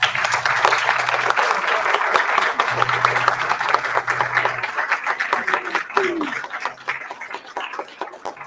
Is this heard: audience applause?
yes